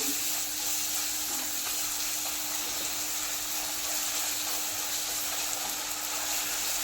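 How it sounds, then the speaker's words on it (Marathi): Jaggery melting in a hot pan for a Marathi coconut rice dish, a steady, even sizzle and hiss that carries on without a break, close by and moderately loud. "आता गुळ ही थोडासा मेल्ट करून घेऊया"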